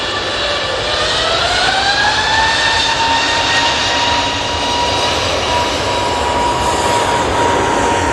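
An Aer Lingus airliner touching down at Manchester Airport, with a loud, sustained jet engine roar and a whining tone that slides upward, rumbling steadily and close throughout.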